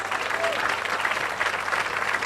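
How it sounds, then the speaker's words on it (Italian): An audience in a Rome theatre, Teatro In Portico, applauds during a live show with a thick, continuous clatter of many hands, while a voice seems to carry faintly underneath. "vorrei intanto facessimo un grande applauso intanto a lui"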